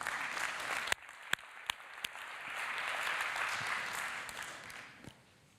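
Audience applause at a conference, a steady wash of clapping from a large crowd with a few sharper claps standing out, tapering off at the end.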